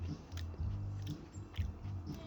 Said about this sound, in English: It has a nice crunch.